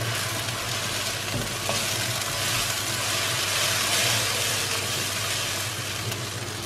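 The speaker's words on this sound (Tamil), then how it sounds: "இந்த டைமில் நம்ம தக்காளி போட்டுடலாம்." Ground tomatoes sizzle and fry in a pan of chicken curry, a steady, fairly quiet hiss continuing throughout with no talk.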